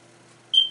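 A single short electronic notification beep sounds abruptly after a near-silent stretch, clear and close before fading quickly.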